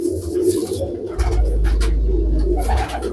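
A red-eyed pigeon coos close by in low, throaty repeated calls, with a faint rustle around it and no talking.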